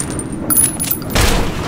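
Gunfire erupts in Metro 2033 Redux: a couple of muffled, broadband blasts in quick succession amid a steady background din.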